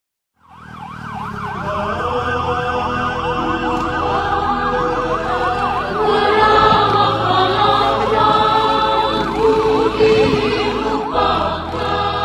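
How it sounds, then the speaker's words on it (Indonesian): A wailing emergency siren sweeps up and down continuously, loud and close, with traffic noise rumbling underneath. "Raungan sirene mengejar waktu."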